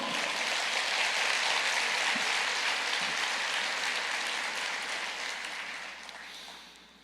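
A church congregation at a Portuguese-language evangelical service breaks into sustained applause, a dense wash of many hands clapping together that holds steady and then gradually tapers off toward the end.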